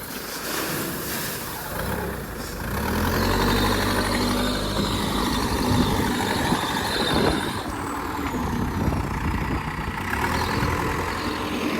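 A tractor engine rumbles steadily at close range, a low, continuous drone that swells slightly midway and holds without pause, with no voices.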